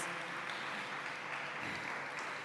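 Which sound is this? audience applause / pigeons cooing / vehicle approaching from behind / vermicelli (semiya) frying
audience applause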